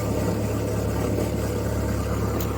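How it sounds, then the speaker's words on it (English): A Perkins 4.236 diesel boat engine, still putting out smoke, runs at a steady idle with a loud, continuous low rumble and no voices. "So I'm gonna shut the engine down and check it"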